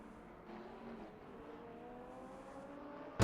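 Race cars in an AI racing video game, including a Nissan 350 and a Chrysler Viper GTSR, with a continuous engine drone and a steady whirring hum at moderate distance.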